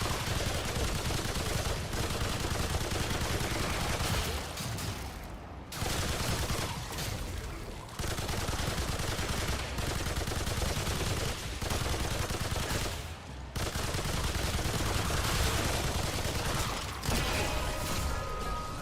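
Sustained LMG fire in Remnant 2, a dense, loud stream of rapid automatic shots that runs almost without pause for the full stretch, with brief dips between bursts.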